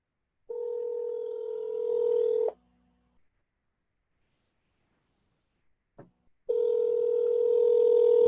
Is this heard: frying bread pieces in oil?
no